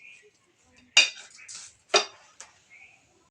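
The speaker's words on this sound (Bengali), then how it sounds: "এবার আমি ভালোভাবে মিশিয়ে নেব" Spoon clinks and scrapes against a bowl while ingredients, including ground poppy seeds, are mixed for a steamed turmeric chhana dish; a few sharp knocks and rustling stirs, close and moderately loud.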